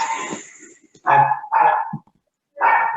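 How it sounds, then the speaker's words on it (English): A dog barks repeatedly during an online meeting, about four loud, fairly close barks in an irregular rhythm with short gaps between them, heard alone. "Somebody's dog is."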